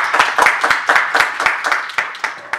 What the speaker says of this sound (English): please welcome me in giving Professor Valente a hearty round of applause